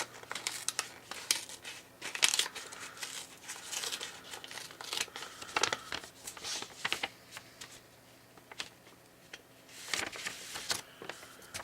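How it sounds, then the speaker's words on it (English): A paper envelope sealed with an address sticker is torn open and handled, giving bursts of crinkling, rustling and ripping paper close by, irregular and uneven, with no speech. "I'm going to open it up. It's sealed with a sticker with my name and address on it."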